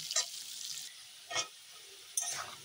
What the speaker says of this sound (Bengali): দেখো আলুটা সুন্দর করে ভেজে নেই